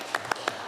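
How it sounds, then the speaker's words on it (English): Scattered hand claps from a small audience at a town council annual retreat meeting, applauding a volunteer named Kevin Lingard; four or five sparse, separate claps in under a second, fairly close and modest in volume. "So I want to give him a huge hand of applause."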